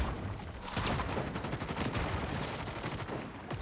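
Rapid bursts of gunfire in a battle-royale-style video game match, dense overlapping shots and volleys from near and mid distance, sustained and loud throughout with no pauses.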